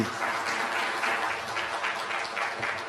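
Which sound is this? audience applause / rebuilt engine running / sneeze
audience applause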